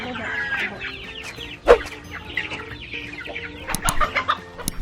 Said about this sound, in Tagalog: Sisentensyahan na po ni Kuya Rasid ang manok.